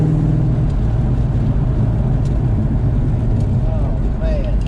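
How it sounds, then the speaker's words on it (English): A Ford Mustang from the 1996–2004 era with a 3-inch exhaust rumbles steadily while driving, a continuous loud low drone with road noise throughout and no clear breaks. "you guys got to hear that 3-inch exhaust"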